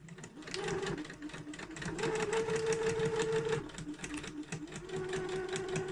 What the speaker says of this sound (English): we're just going to sew all the way down to the bottom corner and repeat what we did on the outer fabric